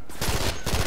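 Rapid burst of gunfire in a video game, several close, loud shots in quick succession within under a second.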